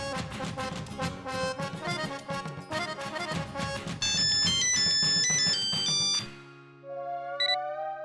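A mobile phone ringtone plays loud and close, a bright looping electronic melody that runs several seconds before cutting to a softer tone, with no talk over it.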